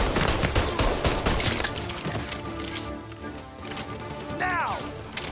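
Rapid bursts of gunfire in Mafia: Definitive Edition, loud cracking volleys packed close together early on, then thinning into scattered shots with a brief voice shout near the end.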